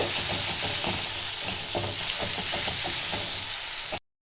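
Turmeric and dried chili fry in hot oil in a pan, a steady loud sizzle running throughout with frequent scraping stirs, then cutting off abruptly near the end.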